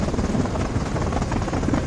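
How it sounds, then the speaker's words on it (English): A helicopter in a film action scene, heard as a loud, continuous rotor thrum and engine roar throughout, close and unbroken, with no speech. "To save his life, Langston rushes to a helicopter"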